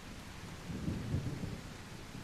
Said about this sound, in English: Does this storm sound better?